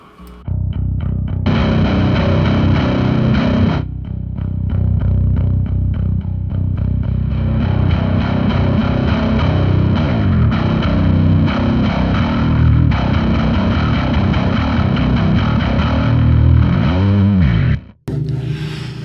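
An electric guitar plays chords with a distorted, gritty tone layered over a cleaner sound, loud and continuous, cutting off abruptly near the end.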